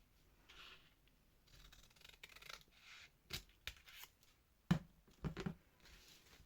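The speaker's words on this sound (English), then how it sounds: "Snip that bit off." Scissors snip off a bit of paper in a quiet room, several sharp close cuts in a quick irregular series after soft rustling of the paper.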